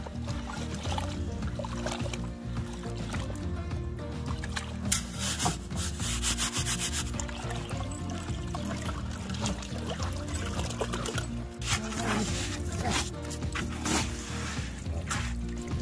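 Gold concentrates from a rocker box being panned by a dredge hole, giving a steady scraping, rubbing wash of gravel and water swirling in a metal pan, close and continuous with occasional splashes and no talk.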